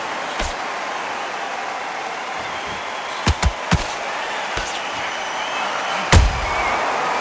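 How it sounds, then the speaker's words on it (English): Punches land in the boxing video game Undisputed: several sharp, close thuds, a quick double hit and a later heavy blow, over a steady arena crowd murmur. "Good counter punch."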